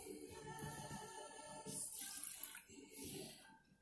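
Water poured from cups into a blender jar while making a juice, a close, steady splashing and gurgling stream lasting a few seconds with a brief swell, quiet and without talk.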